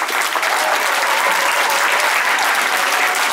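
Thunderous applause for two performers after a live concert show, a dense roaring wall of clapping from a big crowd, loud and continuous from start to finish with no speech over it.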